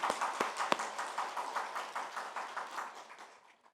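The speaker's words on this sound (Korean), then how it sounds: "박수." Applause from a church congregation, a soft, steady patter of many hands clapping in a fairly reverberant room, with a few sharp louder claps early on before it gradually fades out.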